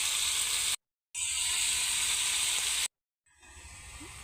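Bottle gourd goes into a pan of browned chicken curry and sizzles hard and continuously. The frying cuts out twice, then returns softer.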